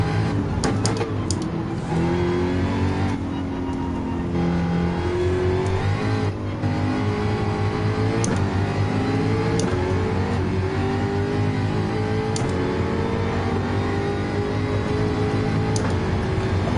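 Jaguar race cars run in Gran Turismo 7 during an amateur sim racing session, with loud, continuous engine drone rising and falling through gear changes and revs, and no voices.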